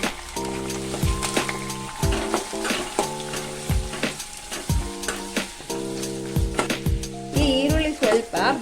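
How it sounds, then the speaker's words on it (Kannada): Green chili, curry leaves, ginger and garlic sizzle in hot oil for raw mango chitranna, giving a continuous close crackle with stirring. A repeating tonal pattern runs through it in short, regular bursts. "ಈಗ ಇದನ್ನು ನಾನು ಎಣ್ಣೆಗೆ ಹಾಕ್ಕೋತೀನಿ"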